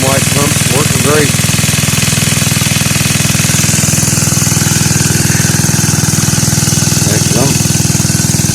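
Homelite pump engine driving a gold dredge through a 2-inch suction nozzle, a loud, steady, rapidly pulsing mechanical drone close by, with someone talking briefly over it at the start and near the end.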